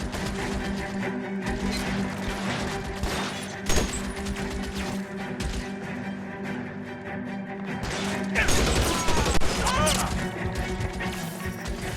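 An enemy blind fires in L.A. Noire, shots and impacts cracking in irregular bursts over a continuous layer of game sound, growing busier and louder toward the end.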